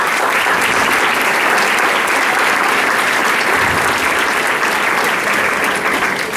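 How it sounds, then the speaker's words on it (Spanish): Sustained, loud audience applause fills a lecture hall at an academic event on decolonization, dense steady clapping from a large crowd with no talk over it. "Un fuerte aplauso."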